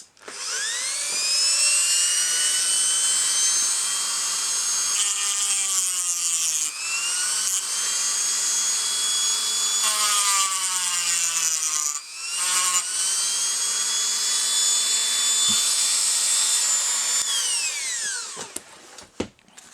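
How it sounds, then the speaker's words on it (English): A high-pitched rotary trimmer whines loudly while grinding the wheels of a Tomica toy car, its pitch dipping and recovering as it bites, with brief pauses before spinning down at the end. "So what I might do is to speed the process up a bit, I'll just use the trimmer."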